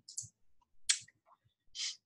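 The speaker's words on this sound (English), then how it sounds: "you'll simply click on that red box and hit your delete key" A computer mouse click and a keyboard delete key press while editing a T-shirt design in CorelDraw: a few soft, close, isolated clicks separated by silence.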